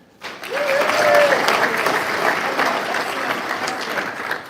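A conference audience breaks into loud, sustained applause that holds steady for several seconds, with a few cheers mixed in.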